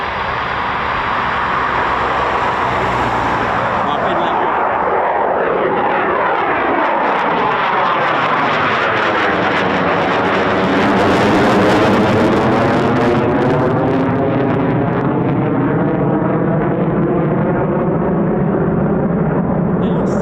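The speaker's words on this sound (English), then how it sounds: "I bet this is a performance takeoff as well." Eurofighter Typhoon FGR4 jet on a performance takeoff at an RAF station, a loud roaring turbofan whose pitch sweeps as the aircraft powers past and climbs, continuous and powerful for about twenty seconds with no talk.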